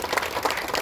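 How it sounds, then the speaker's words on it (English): A brief, dense round of crowd applause for the FPR team at the grand opening of the Grand Avenue Neighborhood Center, with steady overlapping claps and no speech. "let's give Lisa and the whole entire FPR team another round of applause"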